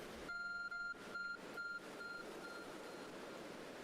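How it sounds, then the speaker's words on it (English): In the Pokemon Legends Arceus video game, a glowing phone object gives off a series of electronic beeps. The beeps come in short repeated bursts and then fade and thin out, with no voice over them. "There's a glowing beeping object over there."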